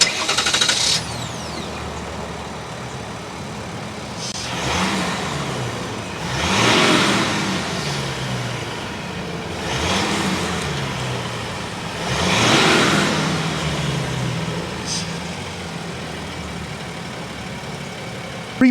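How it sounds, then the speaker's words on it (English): A 2023 GMC Sierra 1500's 3.0L Duramax inline-six turbo diesel revs in several swelling bursts, each rising and falling over a steady idle, with a brief start-up crank at the beginning. "start up this turbo diesel so you can hear that exhaust note"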